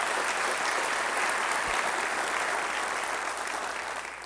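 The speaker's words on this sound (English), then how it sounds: "Let's give them a round of applause, and Samantha as well." Steady, loud applause fills a theater at a Long Beach development forum, a broad wash of many hands clapping together that holds even throughout and eases slightly at the end.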